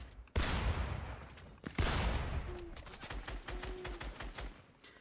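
Fortnite gunfire in a busy match: rapid bursts and rattling volleys of shots, loud and close, with a long sustained stretch of fast repeated firing, no voices.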